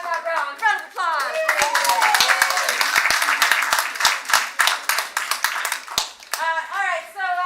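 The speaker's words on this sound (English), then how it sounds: "Round of applause." Audience applause at a live improv comedy show, a steady burst of many hands clapping with voices and chatter mixed in throughout.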